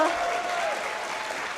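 Audience at a PAX West 2018 Devil May Cry 5 panel breaking into loud, sustained applause and cheering, a dense wash of clapping filling the room with no pause.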